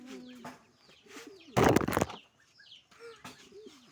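Pigeons in a backyard loft coo in short low calls, with faint chirps and a brief loud burst of flapping wings midway; the sounds are near and moderately quiet.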